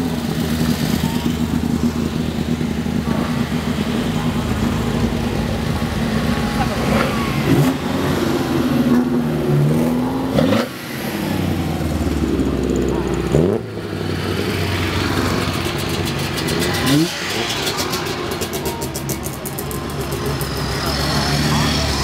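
Classic cars drive slowly past in a demonstration run at a motor show in Lahti, engines rumbling and revving one after another up close, with people talking over the steady engine noise.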